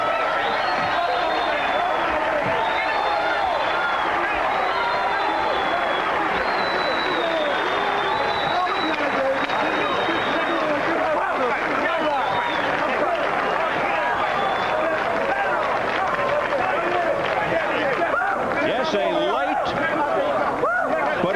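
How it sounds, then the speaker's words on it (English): An appreciative crowd at the Oba Carr vs. Pedro Sanchez boxing match keeps up a steady, dense murmur with scattered applause and cheers, while a commentator talks over it throughout. "Appreciative crowd here"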